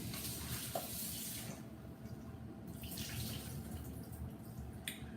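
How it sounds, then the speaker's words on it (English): Catfish is rinsed under a running kitchen tap, a steady close hiss of flowing water with small splashes and shifts as the fish is moved beneath it, no voices. "All right, I'm just gonna rinse it off."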